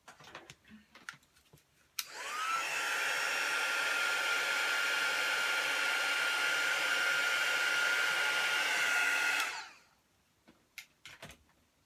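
A heat tool blowing hot air while crafting a stamped Christmas tote bag, a steady loud whoosh that starts abruptly, holds for about seven seconds and cuts off, with faint handling noises before and after.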